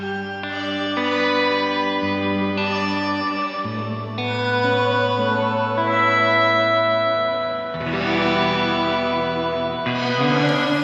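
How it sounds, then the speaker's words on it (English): Sustained shimmering reverb washes from a Strymon NightSky pedal, layered tones with octave-up sparkle shifting through several chord changes, long swelling tails, loud and continuous with no talking. "So here is a shimmery reverb for you."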